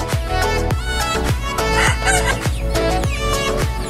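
Rhode Island and Hubbard heritage chickens cluck and call close by in a busy, overlapping run of short repeated clucks, loud and steady throughout with no talk.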